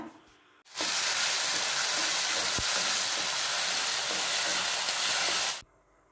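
Ginger garlic paste hits a hot pan and fries with a loud, steady, close sizzle that starts abruptly, holds for about five seconds, then cuts off, with no talking.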